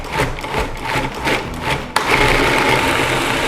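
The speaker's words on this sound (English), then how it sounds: "Shout out to food processor's little blades" A food processor chops dates for raw date rolls, its blades giving a rough, pulsing whir that shifts into a steadier, louder grinding roar partway through, with no voices.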